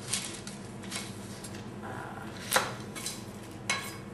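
Knife cutting the top off a sweet Vidalia onion on a board, a few quiet taps and a sharp click of the blade against the surface, close and faint.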